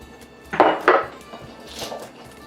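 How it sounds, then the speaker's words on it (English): Garlic and coarse salt are pounded in a mortar with a pestle, giving two sharp close knocks followed by softer grinding taps. "I will crush the garlic in the mortar and I will sprinkle it with coarse salt"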